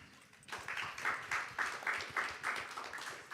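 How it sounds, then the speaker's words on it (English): Audience applause at a conference panel event in New York City, fairly faint, with a steady patter of many hands clapping that swells after a quiet start. "let's give yourselves a round of applause"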